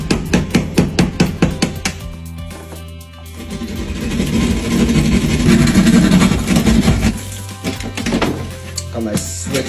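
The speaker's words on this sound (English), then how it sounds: "now I'm gonna cut it out with my drywall saw" A drywall saw cuts a box hole in stucco, starting with a quick run of rhythmic back-and-forth strokes, then settling into a rougher, continuous grinding rasp before tapering off.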